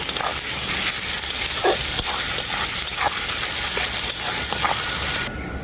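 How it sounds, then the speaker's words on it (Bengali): Crushed ginger and garlic frying with onion for a country chicken curry: a loud, dense, close sizzle with brief stirring bursts, cutting off suddenly at the end. "পেঁয়াজের সাথে আমি আদা থেতো করা আর রসুনটা ভেজে নেব"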